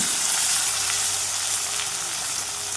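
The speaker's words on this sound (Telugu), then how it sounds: "దీంట్లోకి మనం కట్ చేసుకొని పెట్టుకున్న ములక్కాయలు కూడా వేసేస్తున్నాము." Cut drumstick pieces drop into a hot oil tempering and fry with a loud, continuous sizzle that holds steady throughout, close up and alone.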